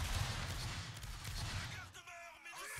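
Infantry musket volley fired on command in a Napoleonic-era video game, a dense crackling burst of many shots merging into a sustained roar for about two seconds, then thinning to a few sharp trailing reports.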